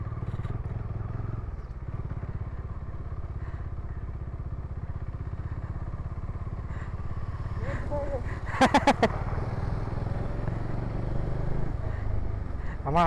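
Motorbike riding during a Durga Puja outing in Kalyani, a steady engine drone and road rumble throughout, with a brief clatter near the end; no one speaks.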